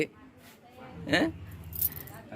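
A bunch of keys jingles briefly in a couple of short metallic rattles, close by, with someone talking around it.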